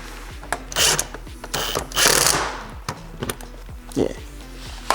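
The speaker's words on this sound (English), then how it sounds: "we hold the lock nut on the back and hopefully just crank this down." A ratchet cranks down a lock nut on bumper lip hardware during a front lip install on an Infiniti G37, giving rapid, evenly spaced clicks in bursts with brief pauses between strokes.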